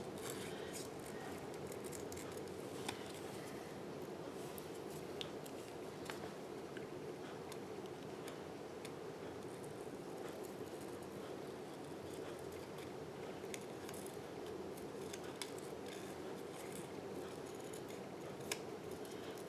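Scissors snipping paper for a holiday card, fast small crisp cuts repeating steadily and quietly throughout while the paper is turned, no talking.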